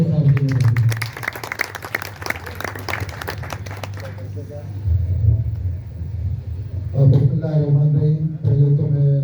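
Audience applause at an alliance meeting, a dense burst of clapping in the first few seconds that fades into room rumble before a voice begins talking.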